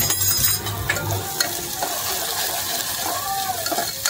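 Onions sizzling and frying in a pan while being stirred, cooking for Marathi-style mutton vada; a steady close crackle with occasional scraping of the spoon, loudest at the start and then settling into a constant hiss.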